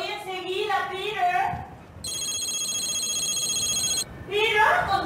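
A steady electronic telephone ring sounds for about two seconds in a busy household, with voices talking just before and right after it.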